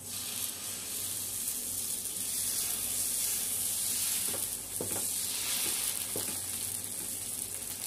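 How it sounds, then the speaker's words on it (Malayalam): Small dosas cook on a hot pan, giving a continuous, even hiss of sizzling batter with a few light taps near the end, heard close and alone without any voices. "അപ്പൊ നമ്മൾ ദോശ ചുട്ടുകൊണ്ട് കേട്ടാ."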